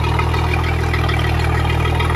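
A 4.3L Mercruiser inboard/outboard boat engine idles steadily and loudly up close, its low, even drone running unbroken with no talk over it.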